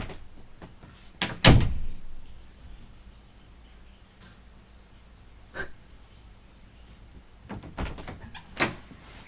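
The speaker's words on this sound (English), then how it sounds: "He opened my door." A door thuds and rattles loudly near the start, followed by quieter knocks and a few more sharp clunks later, set against a hushed, tense room with no talking.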